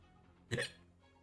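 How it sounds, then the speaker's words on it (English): One sharp hiccup pops up out of near-quiet, a short loud burst close to the microphone that fades quickly, with no talking around it. "Can you hear my hiccups?"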